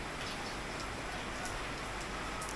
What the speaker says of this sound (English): This is our view for breakfast this rainy morning.